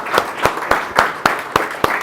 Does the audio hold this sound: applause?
yes